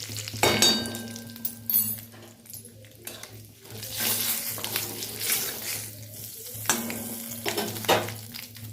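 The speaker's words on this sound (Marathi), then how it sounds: "कढीपत्ता घातला, मोहरी घातली, इडली फ्राय आणि ह्या लाल मिरची पावडर आहे ती घातली." Curry leaves, mustard seeds and red chilli powder frying in oil for a leftover-idli fry, with a steady sizzle broken by loud bursts and crackles and a low continuous hum underneath.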